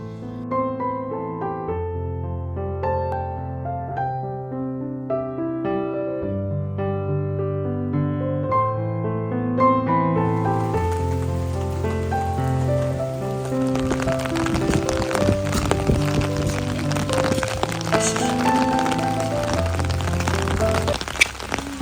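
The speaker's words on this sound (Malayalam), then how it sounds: "മഴയുടെ ശബ്ദം നിങ്ങൾക്ക് കേൾപ്പിച്ചു വിചാരിച്ചു എനിക്ക് ഭയങ്കര ഇഷ്ടമുള്ള ശബ്ദമാണ് മഴയുടെ ശബ്ദം പിന്നെ വെള്ളം ഒഴുകുന്ന ശബ്ദമൊക്കെ" Heavy rain pours down in Norway along with flowing water, a dense hiss that rises sharply about halfway through and continues loud, with music playing throughout.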